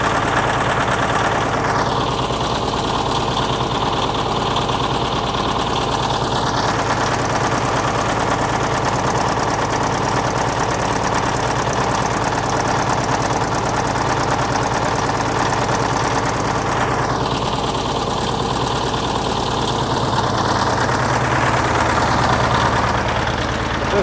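An International TD15-151 crawler dozer's diesel engine idles steadily with a bad injector, giving a loud, continuous low rumble with an uneven knock throughout; a hissing rise is heard twice, with no talk.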